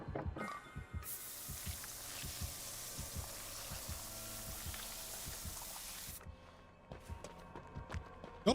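In the game Dead by Daylight, a healing spray gives off a steady, close hiss lasting about five seconds, with faint ticking game sounds before and after.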